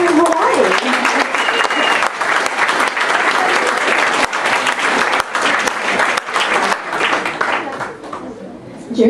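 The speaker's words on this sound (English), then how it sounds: "So let's give Diane Ashton Hawn a round of applause as she can hear in Hawaii." Loud, sustained applause from a large crowd, dense clapping filling the whole stretch, with a few voices mixed in.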